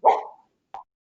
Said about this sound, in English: Oh gosh, my dog is barking.